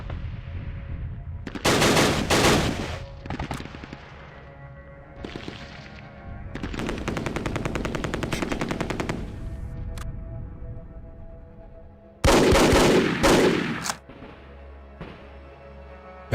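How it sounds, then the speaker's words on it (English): Anti-tank gun fire in a turn-based WW2 tactical game: loud bursts of rapid gunfire in several separate volleys, including one long rattling stretch, with short pauses between. "Fire that AT gun."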